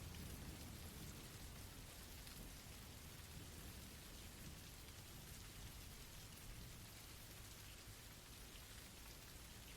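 Steady rain pours down at night over a campsite, a constant soft hiss of drops on surfaces with no other sounds, continuous and faint throughout.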